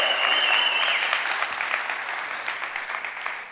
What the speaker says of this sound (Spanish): Puede aplaudir, chiflar, alabar.